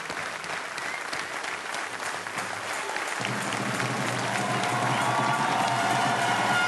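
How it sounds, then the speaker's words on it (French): A large audience at the Bocuse d'Or 2013 award ceremony at Eurexpo in Lyon applauds steadily, a dense continuous clapping that grows louder and fuller partway through. "je crois qu'on peut applaudir très fort Monsieur Paul"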